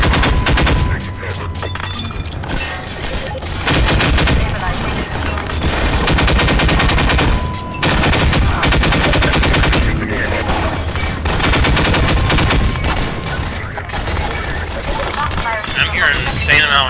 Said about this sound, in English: Gunshots right about now.